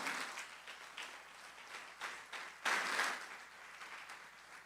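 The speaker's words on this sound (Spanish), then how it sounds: "Dale un fuerte aplauso al Señor Jesús." A church congregation claps and applauds together in a steady wash of clapping that swells briefly near the middle, at moderate volume with no talking over it.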